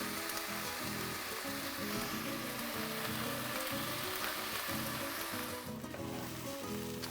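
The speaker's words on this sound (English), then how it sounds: "We're going to saute these for about 7 or 8 minutes." Chopped onions seasoned with salt and pepper saute in a hot pan, a steady, close, continuous sizzle and crackle that runs unbroken throughout with no voices.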